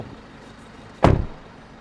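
A car door slams shut once, a single loud, close thud standing out against a quiet background with no talk.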